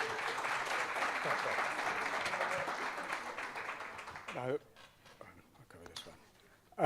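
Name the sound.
audience applause for the professor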